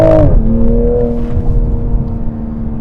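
A 2024 Toyota Supra 3.0 engine drones steadily from inside while driving, with a brief rev change at the start and then a sustained loud hum.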